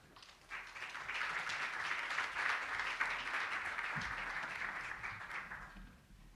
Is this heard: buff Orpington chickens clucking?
no